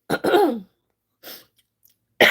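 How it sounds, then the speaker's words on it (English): A short burst of coughing, two quick harsh coughs close together, then a softer cough after a pause and another starting at the end; close and fairly loud. "The cough just hits me."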